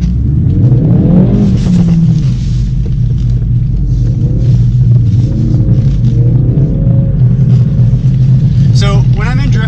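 A 2017 Ford Focus RS accelerating in drift mode, its engine a loud, steady low roar with rising revs throughout, heard from inside the car while people talk over it.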